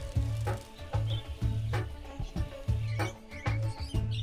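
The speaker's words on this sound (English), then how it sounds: "The boisterous rainbow lorikeets are some of the most sociable, noisy, and acrobatic of parrots" Rainbow lorikeets call in a noisy group, a series of short, harsh, screechy bursts repeating about every half second, close and fairly faint.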